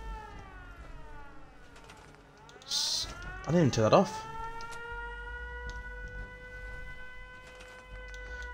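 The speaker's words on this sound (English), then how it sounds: "I'm going to quickly turn the siren off and I'll quickly show you what it does" A settlement siren in the video game Fallout 4 wails with steady, slowly sliding tones that carry on throughout, with a brief burst of louder noise in the middle and a person talking over it.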